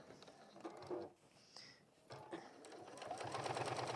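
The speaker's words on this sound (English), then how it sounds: "And I'm just top stitching here." A sewing machine topstitches through several layers along a handle seam of a fabric bag, using a longer stitch length. It whirs in short close runs with pauses, then gives a steadier, longer burst of stitching.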